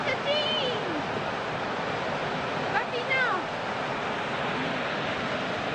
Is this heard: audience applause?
no